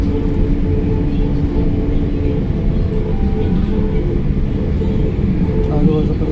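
A Nagpur Metro train rumbles steadily at a busy junction station, a continuous low drone with faint mechanical whine above it and no clear pauses.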